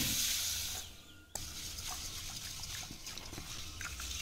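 Pearl millet (kampu) is swished and rinsed in water by hand, making close, soft sloshing and trickling after a louder splash at the start.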